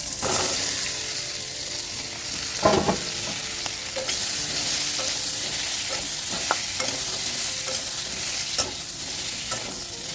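Cut chilies sizzling in a little hot oil in a home kitchen pan, a steady frying hiss with occasional stirring clinks and scrapes and no talking.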